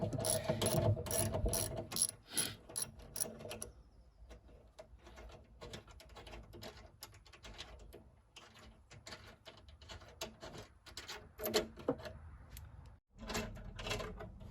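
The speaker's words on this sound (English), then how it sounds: "there's two 10mm bolts holding this radiator in. Go ahead and take those loose" A hand ratchet loosens two 10mm bolts holding the radiator of a 1999–2001 Ford Ranger, making quick close-up bursts of clicking, loud at first, then recurring intermittently with pauses.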